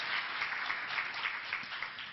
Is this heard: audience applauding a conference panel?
yes